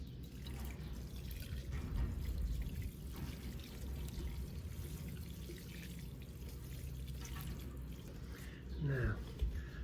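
Water poured into a plant pot, a soft trickling and dripping that runs faint beneath background noise and nearby voices talking, ending with a brief gurgle.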